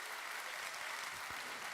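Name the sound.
congregation applauding in church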